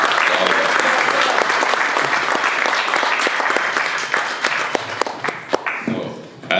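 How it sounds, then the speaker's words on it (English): A forum audience claps steadily, a dense, sustained round of applause that thins out toward the end into scattered individual claps. "Round of applause, please."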